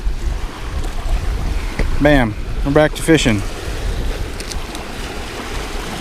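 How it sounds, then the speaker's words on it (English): Waves washing against a riverbank or shore during spring bank catfishing, a constant rough surf roar blended with wind noise on the microphone, with someone speaking briefly over it midway. "It's so loud with the waves, I just really can't hear anything."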